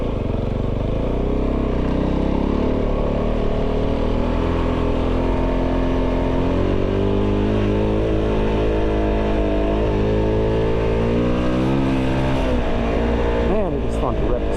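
A stock street-legal Kove 450 motorcycle revs on a dirt trail. The engine drone is loud and steady, and its pitch climbs sharply in the final seconds as the throttle opens.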